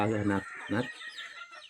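Native chickens cluck in two short bursts close by, followed by softer scattered clucking and background chatter from the flock.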